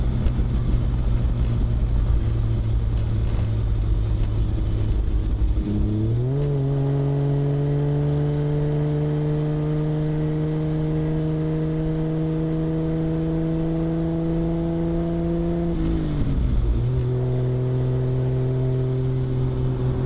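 A 1975 Triumph TR6 sports car with triple carburetors and overdrive drones steadily at speed, with two smooth gear changes where the pitch drops and climbs again, loud and close.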